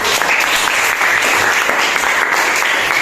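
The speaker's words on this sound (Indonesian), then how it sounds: "Oke, clap hands, tepuk tangan." Students in a classroom clap their hands together, a dense burst of applause running steadily from start to finish at close range.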